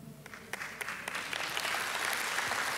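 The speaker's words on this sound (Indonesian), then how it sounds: "Oh kalau mau tepuk tangan dong." A church congregation applauding during a sermon, a few scattered claps at first that quickly swell into steady, full applause filling the room.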